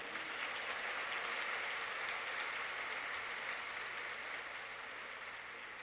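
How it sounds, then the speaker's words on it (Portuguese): A live audience applauds steadily after a spoken talk, a dense, even wash of clapping that holds at full strength for about six seconds and eases only slightly at the end. "Pode aplaudir."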